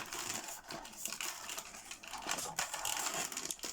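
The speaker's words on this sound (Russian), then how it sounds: "трубочку обрезаю, убираю в плетение" A paper tube being cut and tucked into a woven cache pot, heard as close, continuous crinkling and rustling of paper with small irregular snips and scrapes.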